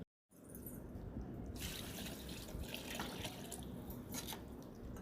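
Steady water pouring into a cooking pot for biryani, a continuous splashing flow close by, lasting several seconds with no talking.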